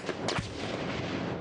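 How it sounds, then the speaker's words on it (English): A heavy burst of gunfire and rocket-propelled grenades in a Taliban attack on a U.S. outpost, one sharp blast with a rumbling tail, somewhat distant and echoing. "Gunfire and rocket-propelled grenades set the outpost on fire."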